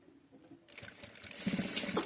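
A sewing machine starts up to stitch the width of a duvet cover, a brief faint buzzing run that grows louder near the end, with no talk.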